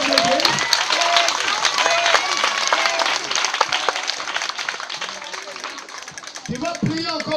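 A church congregation at a prayer gathering applauds in acclamation of the Lord, with loud, dense clapping that carries throughout and voices calling out over it.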